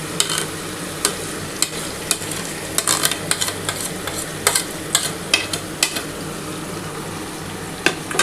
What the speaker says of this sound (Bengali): এই যে দেখো, এই চিকেনটা ঢেলে দিচ্ছি।